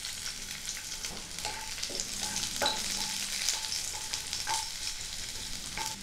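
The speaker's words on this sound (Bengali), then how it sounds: "রসুন কুচিটা হালকা ভাজা ভাজা করে নিয়েই" Chopped garlic fries softly in oil left over from frying dried chillies for an eggplant bharta, giving a faint continuous sizzle with light crackles and occasional stirring clinks.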